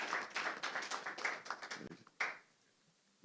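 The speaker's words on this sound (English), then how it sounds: "The sound of that clap is not as loud as before." Audience members clap at a Nigeria Prize for Science press conference: a brief, moderate round of applause made of quick, overlapping claps, fading into near silence with a single late clap.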